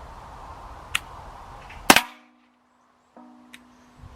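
An Umarex HDP 50 CO2 pistol fires one loud, close shot through a chronograph, preceded by a faint click, then a brief electronic tone from the chronograph afterward.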